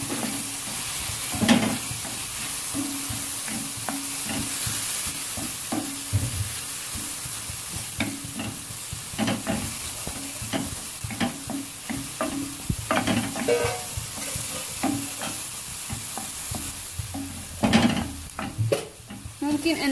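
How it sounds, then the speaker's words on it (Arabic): Onions fry in a pan while a utensil stirs them, a constant soft sizzle broken by repeated scraping and clattering strokes over about twenty seconds, with no talking. "غادي نبقى نحرك"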